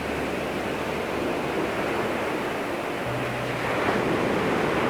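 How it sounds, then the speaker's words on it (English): Ocean waves break along the shore at Kovalam in a steady, broadband roar of surf mixed with some wind noise, with no voices. "Waves rise as people surf."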